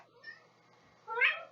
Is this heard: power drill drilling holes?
no